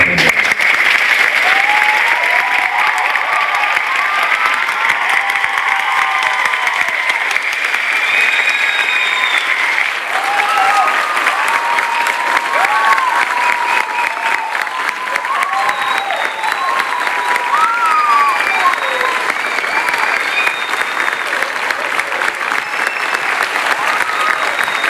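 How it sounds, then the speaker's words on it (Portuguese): Loud, sustained applause from a studio audience on a Brazilian culture and sports talk programme, continuous dense clapping over about 25 seconds with cheering voices and a host talking over it. "E os aplausos são para você."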